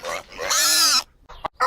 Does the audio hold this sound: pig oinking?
yes